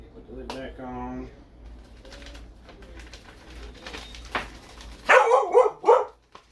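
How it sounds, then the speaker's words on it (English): A dog barks several times in a quick cluster near the end, fairly close and loud, after a stretch of quieter background sound. "That's just my dog barking."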